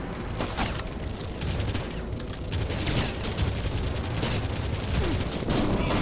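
Sustained automatic gunfire from a gun in the Red Faction shooter, rapid shots running continuously at steady loudness for the whole stretch.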